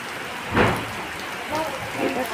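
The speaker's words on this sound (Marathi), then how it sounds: "किती मुसळधार पाऊस आहे." Heavy monsoon rain pours down outdoors as a dense, steady hiss, with a voice speaking briefly over the downpour.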